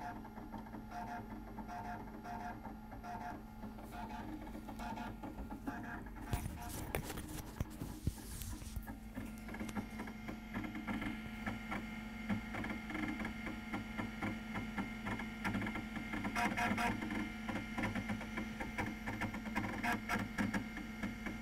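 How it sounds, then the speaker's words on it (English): A Macintosh SE computer loads from a floppy diskette, giving a steady mechanical whir and faint ticking drive noise with a brief busier burst early on, heard close up over a constant low hum. "It's a Macintosh SE with a diskette."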